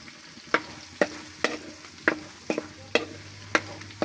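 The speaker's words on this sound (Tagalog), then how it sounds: "Kunting halo-halo na lang yan mga kasuki." Suman sinukmani, sticky rice cooking in a pan, is stirred with a utensil, making sharp scraping knocks about every half second over a low sizzle.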